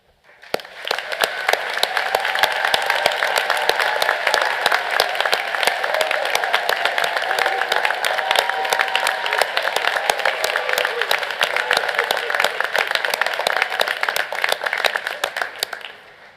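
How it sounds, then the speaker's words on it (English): A university graduation ceremony audience gives the graduates a long, steady round of applause, dense clapping from a large crowd that holds evenly for about fifteen seconds before fading. "So let's applaud the graduates again as a group now"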